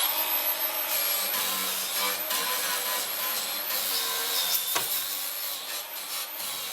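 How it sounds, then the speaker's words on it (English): A wire wheel scrubs rust off the chassis floor pan of a VW Beetle during restoration. The harsh, steady abrasive whirring runs up close throughout, with small shifts in intensity. "I think I'm gonna run around it with the wire wheel real quick."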